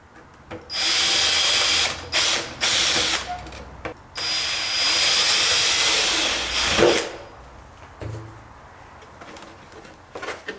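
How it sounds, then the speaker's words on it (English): Power drill whirring in bursts while drilling through a plastic RC truck body, a few short runs then a long continuous drilling stretch, loud and close, ending with a clunk and quieter handling noises. "So now I'll just drill through here so I get the pattern on the body."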